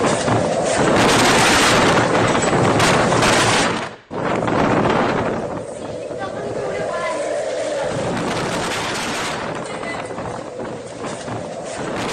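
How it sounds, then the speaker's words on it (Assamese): Strong wind with heavy rain during a storm in Guwahati makes a loud, dense roar that drops out briefly, then settles into steadier rushing, with a voice faintly underneath. "লগতে আছে প্ৰচণ্ড বতাহ আৰু বিভিন্ন প্ৰান্তত ধুমুহাও অহা পৰিলক্ষিত হৈছে"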